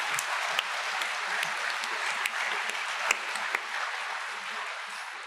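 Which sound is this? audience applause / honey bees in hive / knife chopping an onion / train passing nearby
audience applause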